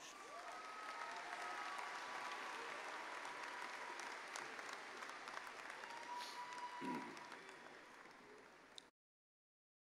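A large commencement crowd applauds graduates at a university spring ceremony, with steady, dense clapping filling the hall for about nine seconds before cutting off abruptly.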